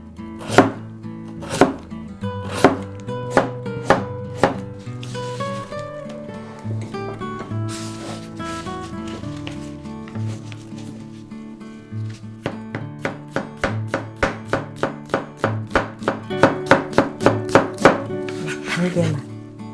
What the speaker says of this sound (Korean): 될 수 있으면 얇게 쓸어서 식감이 좋게